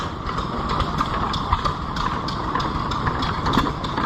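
A small antique gas engine chugs steadily nearby at a county fair engine display, with a rhythmic, mechanical putter and clicking beats at an even pace.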